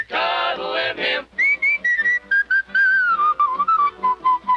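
A person whistles a birdsong imitation in a 1948 film song, starting with a dense trill and moving into a run of short, bright chirping notes that step down in pitch, loud and close with brief gaps.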